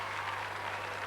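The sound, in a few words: crowd applauding a substitution at a Gaelic football match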